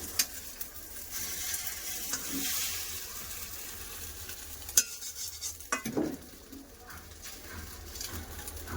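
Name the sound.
egg frying in a pan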